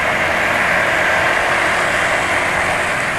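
A motorcycle engine with a failing oil condition runs rough and harsh, giving a loud, steady close-up drone with a raspy edge and no pauses.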